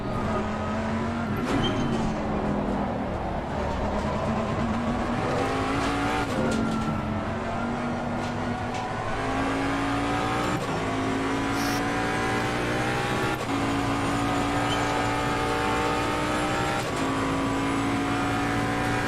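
Jaguar G3 race car engine in Assetto Corsa Competizione droning loudly and continuously, pitch climbing through the gears then dropping at each upshift, repeated several times, with faint tire noise and no talk.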